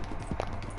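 Horse hooves clop rapidly in Red Dead Redemption 2, a brief quick run of galloping hoofbeats at moderate volume.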